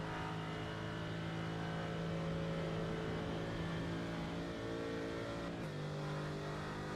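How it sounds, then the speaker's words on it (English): Mercedes GT4 race car engine in a racing video game at Mount Panorama drones steadily at a high, sustained pitch, holding one gear with a brief shift near the end, alone and fairly quiet. "the Mercedes really sounds nice on the mountain as well"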